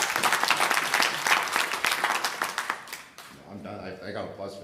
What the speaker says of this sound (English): I got applause for that